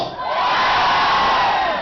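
Comedy bar audience yelling together in a short, loud burst of crowd shouting that swells and fades over about two seconds.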